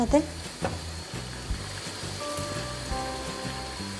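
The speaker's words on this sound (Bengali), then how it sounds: "এবার এর সাথে দিয়ে দিব আমি মাংসগুলো দিয়ে দিব।" Chicken pieces go into a pan of spice paste that has been cooking about seven or eight minutes, and it fries with a steady close sizzle, with stirring bumps and scrapes over it.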